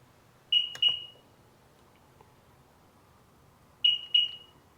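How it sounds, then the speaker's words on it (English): A Sea-Doo personal watercraft signals a fault code with two pairs of short, shrill electronic beeps, spaced about three seconds apart, clear and alone over a faint background hum. "still long beep"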